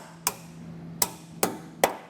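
A hammer taps protruding tabs on the bulkhead of a 2019 Subaru Ascent flush, four sharp metallic knocks spaced unevenly, close and distinct against a quiet background hum.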